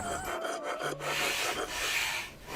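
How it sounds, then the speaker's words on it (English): Wet sandpaper rubs over the surface of a handmade metal mirror in a steady, close rasping scrape that runs continuously for a couple of seconds. "uses wet sandpaper to smooth the mirror's surface"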